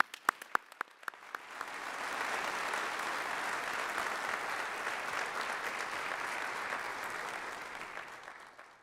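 An audience at a Troy University honors convocation applauds criminal justice inductees. A few separate claps open it, then the hall fills with steady, sustained clapping that holds loud and even to the end, with no speech over it.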